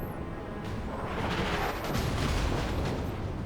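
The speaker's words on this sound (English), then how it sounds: "And there goes the main gun." The main gun of the Jean Bart battleship in World of Warships fires as a deep, rumbling boom that swells and rolls out over about three seconds amid steady naval battle noise.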